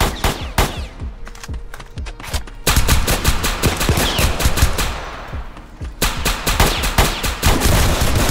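Rapid bursts of automatic gunfire crackle loudly in a Roblox hood game set in the South Bronx, with overlapping volleys and single shots in a busy, continuous exchange.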